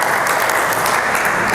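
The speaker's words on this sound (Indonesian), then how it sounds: "Tepuk tangan." Applause from an audience at an Islamic religious lecture on fiqh, a brief, dense and steady patter of many hands clapping close by with no one talking.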